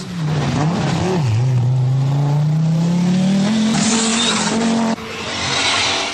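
Audi Quattro rally car with engine and transmission problems, engine droning loud and near, pitch rising as it accelerates, with tire skidding and a sharp cut then resumed roar near the end.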